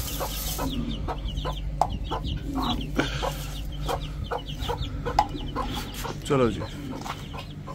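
Small chicks and hens clucking around feed on a home poultry setup, a steady mix of near soft clucks and chirps with occasional louder calls, while someone speaks briefly over them.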